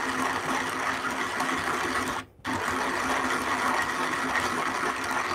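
A Pietro Pro flat-burr hand coffee grinder is cranked on a tabletop, giving a steady, close grinding whir that breaks off for a split second before resuming at the same even level.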